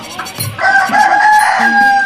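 A golden Japanese black chicken rooster crows once, loud and close, a drawn-out strained call with a harsh, nasal tone.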